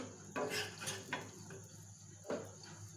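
Bread omelette being served onto a plate, heard as a few faint, close clinks and scrapes of a utensil against the dish over a quiet kitchen background.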